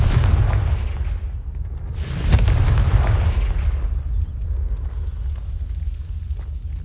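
A Confringo blasting spell explodes in Hogwarts Legacy on PS5: a loud, booming burst around the two-second mark over a continuous rumbling, crackling bed of game noise that slowly fades.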